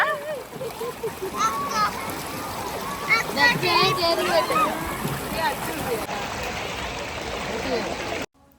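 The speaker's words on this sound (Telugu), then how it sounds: "ఇక్కడ వాటర్ ఫ్లో అయితే చాలా ఎక్కువ ఉంది" Strongly flowing water rushes and splashes steadily and close by at a spot in Araku while children's voices chatter and call out over it, ending abruptly.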